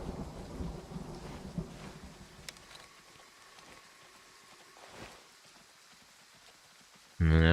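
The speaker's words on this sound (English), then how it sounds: "Thunder." Thunder in the hunting video game Way of the Hunter rolls as a low rumble with rain that fades over several seconds, ending in a sudden loud burst.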